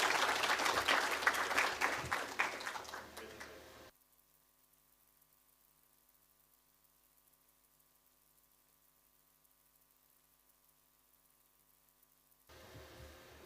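A crowd claps at a corporate plan launch, a dense burst of applause that cuts off abruptly into a long stretch of faint hum before room noise returns.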